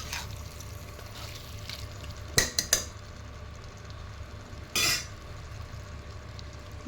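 Mutton stirred in a pot with onion, green chilli and ginger: a low background sizzle broken by a few sharp metal clinks of a spoon against the pot and one short scraping rattle, with no talking.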